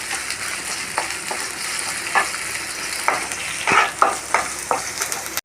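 Finely chopped green chillies and onion fry in a pan for an eggplant curry, a loud, bright sizzle punctuated by irregular sharp crackles and stirring scrapes.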